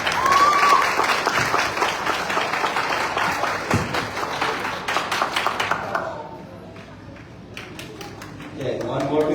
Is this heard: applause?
yes